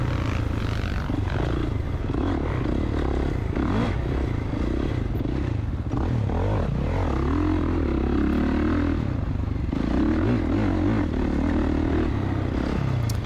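Motocross bike engine at a beginner 40-plus race, throttle rolled off and back on, a continuous loud rumbling drone rising and falling with clattering and scraping mixed in throughout.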